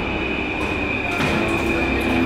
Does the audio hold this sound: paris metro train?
yes